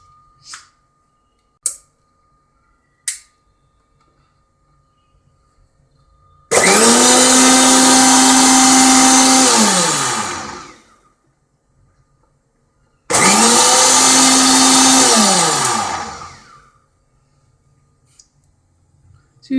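A mixie blender churning cream into butter, two loud whirring bursts of about four and three seconds each, spinning up and winding down, separated by quiet pauses with a few light clicks.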